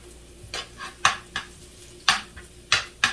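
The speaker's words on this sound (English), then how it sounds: "So I have to stir it a bit." A spoon or spatula scrapes and knocks against a pan while garlic is stirred, giving several sharp metallic clinks at an irregular pace over a low background, with no voices.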